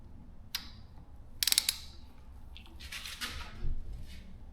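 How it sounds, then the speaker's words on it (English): Ratchet wrench clicking while loosening engine top-end bolts on a neglected Yamaha TW200, several short bursts of close metallic ticking separated by pauses. "let's go ahead and loosen the 6 bolts"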